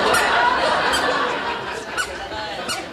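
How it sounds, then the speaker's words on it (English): Several short, high squeaks from leather tasseled Starfighter dress shoes stepping on a bar floor, rising in bursts over a steady murmur of room noise and laughter. "squeaky shoes are only a problem if you're a mugger."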